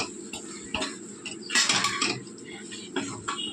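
A spoon scrapes and clinks against a pan as cut boiled eggs are stirred into a thick masala gravy for egg curry, with irregular metallic taps and a voice speaking over them.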